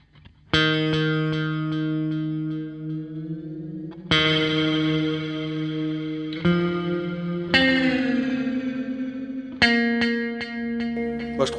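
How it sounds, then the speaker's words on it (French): Electric guitar played through an ambient metal pedalboard with delay and reverb, heard as four sustained chords or notes, each struck cleanly then ringing out with echoing repeats and a lush reverberant tail, loud and alone with no talk. "un patch réverbéré qu'on va pouvoir gérer avec la pédale d'expression"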